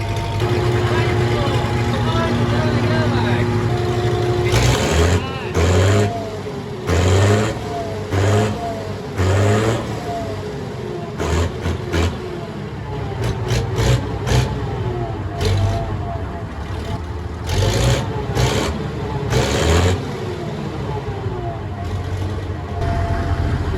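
A 1979 Bizon Z056 combine harvester idles with a deep, bassy roar in winter, its engine rumble running throughout while people talk nearby and the revs surge in repeated short bursts.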